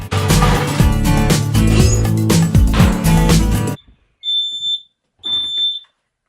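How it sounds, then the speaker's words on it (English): Loud music plays, then cuts out, leaving two sharp high-pitched electronic beeps from a smoke alarm, spaced about a second apart. "So my fire alarm is very temperamental."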